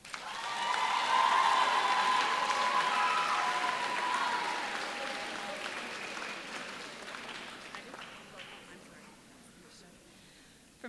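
An audience at a school promotion ceremony breaks into sustained applause, swelling quickly to a loud, dense clatter of clapping that gradually thins and fades over several seconds.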